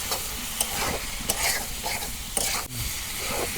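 Dried fish (shutki) being stir-fried in oil and water in a pan for a Bangla dish with taro stolons, a steady sizzle broken by scraping stirs of the spatula, close up with no talking.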